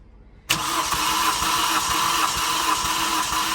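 Toyota Corolla engine cranks during a compression test, a sudden loud start of steady rhythmic whirring chugs from the starter, close by and continuing without pause.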